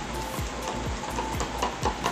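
A stirrer swirls through milk tea in a cup with a steady, close, liquid swishing and rhythmic strokes repeating about every half second, no voices.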